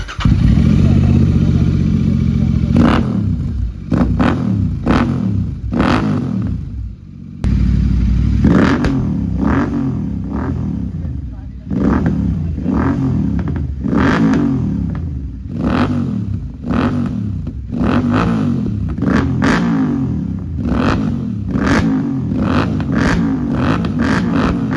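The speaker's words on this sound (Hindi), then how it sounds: "अब दोनों का एग्जॉस्ट नोट आपको सुनाने" Two Royal Enfield twins, an Interceptor 650 and a GT 650 fitted with Red Rooster exhausts, rev loudly and repeatedly in sharp bursts over a rumbling idle, with voices talking between blips.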